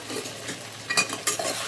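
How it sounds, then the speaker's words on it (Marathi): Okra (bhindi) hitting hot oil and being stirred in a pan, with a soft sizzle and a few scraping stir strokes, brief and fairly quiet. "आता छान कडकडल्यावरती आपण भेंडी टाकून घेऊया आणि छान मिक्स करून"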